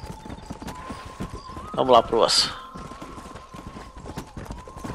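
Horse hooves clip-clop steadily in the Red Dead Redemption multiplayer game, with a short louder burst near the middle, under ongoing conversation between players.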